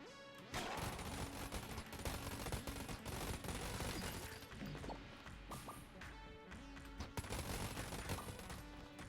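Rapid Vulcan Cannon gunfire in the video game Enter the Gungeon, a dense, continuous stream of loud shots over busy game sounds and music, running almost the whole time with barely a pause.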